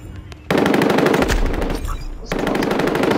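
A sentry gun in a video game fires long rapid bursts of loud, close automatic shots, breaking off briefly in the middle before the fire resumes.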